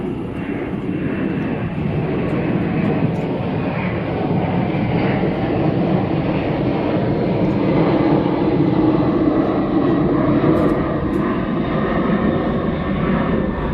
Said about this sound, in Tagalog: Aeroplano!